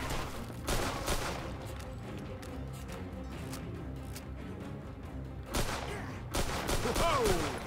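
Gunfire from the Mafia 2 video game: a fusillade of repeated shots, with dense bursts at the start and again near the end over a steady game backdrop, and voices talking underneath.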